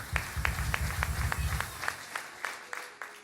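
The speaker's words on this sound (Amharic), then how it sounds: "አጨብጭቡላት።" At a church service, a congregation claps in a steady, evenly spaced rhythm. The clapping sits over a low murmur of crowd noise and gradually thins out.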